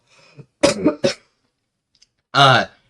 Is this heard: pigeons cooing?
no